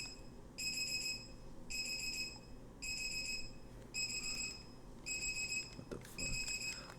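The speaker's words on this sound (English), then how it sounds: "it's my roommate's alarm" A roommate's alarm clock beeps in a dorm room, six evenly spaced bursts of piercing tones, each about a second long with short gaps, steady and fairly loud over a low room hum, with no one speaking.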